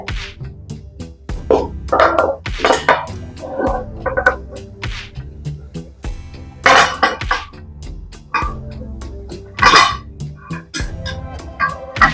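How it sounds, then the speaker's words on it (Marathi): Mixed vegetables for Gujarati undhiyu go into a pan on a gas flame turned to full, making a run of clanks, thuds and scraping clatters at irregular intervals, close and fairly loud. "आता हे सगळी भाजी घालून घेऊया"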